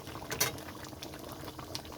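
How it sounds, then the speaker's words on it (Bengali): Mutton bubbles at a boil in a pot before going into a pressure cooker, a soft, steady bubbling and popping with one brief louder splash near the start, fairly quiet and with no voices. "কুকারে দেওয়ার আগে ভালো করে এরকম ফুটিয়ে নেবেন"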